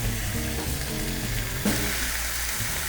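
Onions are pushed under a beef roast in a hot pan, with a loud, even sizzle and a brief surge partway through, no talk.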